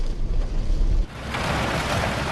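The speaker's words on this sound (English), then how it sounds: "It's raining really heavily right now" Heavy rain pouring near the Chishui River as the weather turns on a mountain descent, a dense, steady broadband hiss roaring close to the microphone with wind buffeting, no talk.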